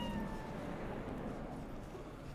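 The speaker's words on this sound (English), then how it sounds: "Hi, kitty." A cat meows a few times in Cyberpunk 2077, its short cries sitting over a steady low ambient hum with no speech.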